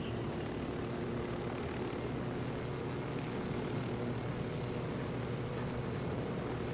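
A helicopter in the video game Ghost Recon Wildlands sends out a steady, loud rotor and engine drone that holds unbroken throughout, with no talk over it.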